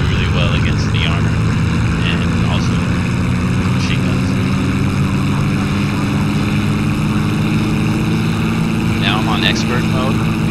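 Steady droning propeller fighter plane engines, including a Spitfire, in a video game fill the whole stretch, loud and continuous, with brief higher-pitched bursts like distant gunfire or whines layered on top.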